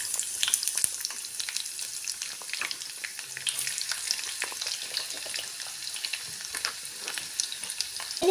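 Ginger and garlic sizzle in hot coconut oil for Kerala-style egg curry, a continuous crackling fry with sharp pops and occasional stirring clatter, close and fairly loud with nobody talking.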